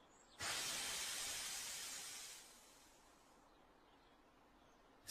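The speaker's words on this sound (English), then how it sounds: "When he's sad, he lets out a slow wheesh of steam." Thomas the Tank Engine lets out a slow wheesh of steam, a broad, steady hiss that starts abruptly, holds for about two seconds, then fades to a faint background.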